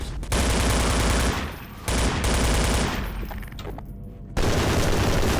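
Rapid automatic gunfire from a gun in the video game Coterminus: loud, dense bursts of shots that run almost continuously, with a few brief dips between volleys.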